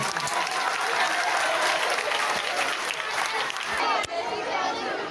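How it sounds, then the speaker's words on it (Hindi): Loud, dense applause from a crowd at a school farewell event, continuous clapping with some chatter and cheering mixed in, briefly dipping before carrying on. "एक बार जोरदार तालियां नहीं।"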